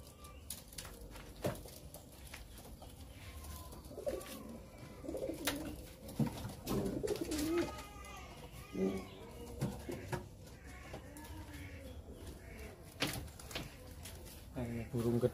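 Domestic pigeons coo repeatedly in soft, low, throaty phrases close by, mixed with scattered clicks and handling noises.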